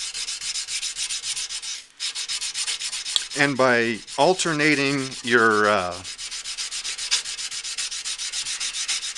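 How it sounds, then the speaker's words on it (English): Sandpaper is rubbed by hand across a knife blade in quick, continuous back-and-forth strokes. The close, raspy scrubbing runs throughout and continues beneath a brief stretch of talk midway. "for your sandpaper to the blade, the previous grit scratches show up really, really nice."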